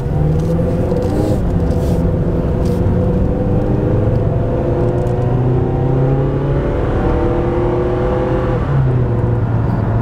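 A 2005 Mazda6 car driving along a street, heard from inside as a steady loud engine drone with rising and falling tones as it accelerates and shifts gears, no talking.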